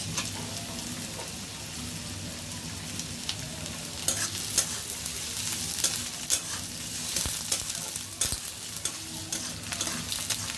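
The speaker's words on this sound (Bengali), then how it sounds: "আর পেঁয়াজ ভাজা ভাজা হইতে থাক ভাজা" Onions with green chillies frying steadily in a pan, a continuous sizzle with scattered scraping stir strokes throughout, close and moderately loud.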